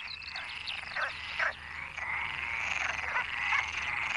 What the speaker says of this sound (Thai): ทำถุงใต้ท้องของมันให้พองออกเพื่อสร้างเสียงที่ดึงดูดตัวเมีย